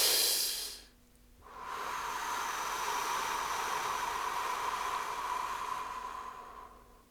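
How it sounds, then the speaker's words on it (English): A slow breath drawn in, then a long, steady breath out, heard as a close, soft, airy hiss that holds for several seconds before fading. No one speaks. "Long breath in, longer breath out."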